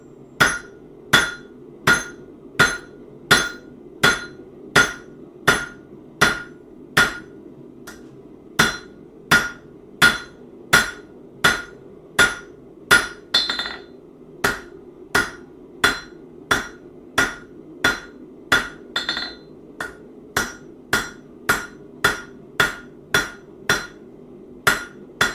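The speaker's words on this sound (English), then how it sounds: "To clean up these hammer blows a little bit." Hammer blows ring out on metal while a trivet is forged on an anvil: about forty sharp, bright strikes at a steady, regular pace, close and loud over a low hum of the forge, with no talking.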